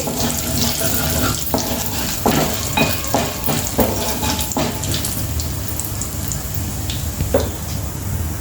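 Loud, continuous crackling and sizzling of lentils and spices frying in hot oil for tempering, with occasional sharp pops and clinks of a spoon stirring.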